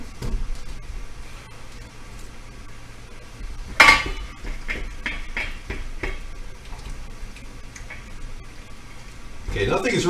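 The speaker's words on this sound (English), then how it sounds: "I'm going to finally take the wooden spatula and stir it" A wooden spatula stirs pasta, sausage and sauce in a cooking pot, giving soft scraping and clinking with one sharp knock partway through and light background noise.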